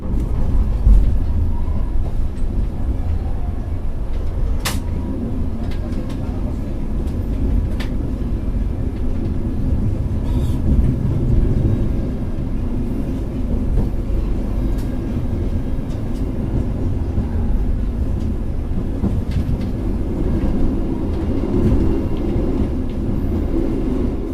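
An airport train from Kualanamu Airport heading to Medan station rolls past with a continuous heavy rumble and occasional sharp rail clicks, steady and close.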